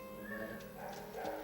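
Dogs at a shelter housing about seventy dogs, giving soft yips and whimpers with faint barks in the background, a low, fairly steady mix heard without any talking.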